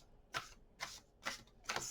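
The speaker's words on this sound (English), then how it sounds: "I always like to just do an extra shuffle when we're in the energy here together." Tarot cards are shuffled by hand, giving four soft, evenly spaced riffling rasps about half a second apart, quiet and close with no voices.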